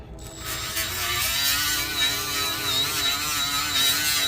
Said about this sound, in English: you're just gonna take your grinder and just